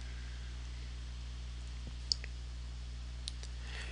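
A few isolated computer mouse clicks, faint and spaced apart, during a Canva photo-collage upload on a computer, over steady background hiss.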